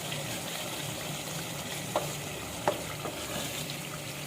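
Fresh coriander is being stirred into a zucchini (tori) curry in a pan, with a steady close sizzle of frying under a couple of sharp spoon taps against the pan.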